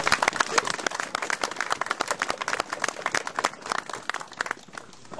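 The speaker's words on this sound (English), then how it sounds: "can I have a round of applause for the Fisheries team of Stirling Council?" A small crowd at a river-opening fishing event applauds briefly outdoors, with distinct, close claps that thin out and fade near the end.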